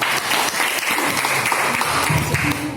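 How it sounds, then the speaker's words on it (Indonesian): A class applauds a student group after its presentation in a teaching practice session, with loud, steady clapping from the room for a few seconds and a faint voice rising underneath toward the end. "Tepuk tangan buat kelompok A"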